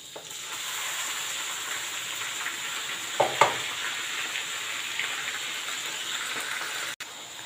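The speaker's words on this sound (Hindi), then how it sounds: "अब हम इसमें अपना जो चौक किया हुआ प्याज टमाटर और हरी मिर्च है वो डाल देते हैं" Continuous loud sizzling of chopped onions, tomatoes and green chillies frying in hot oil, with a couple of brief clinks or stirring knocks partway through.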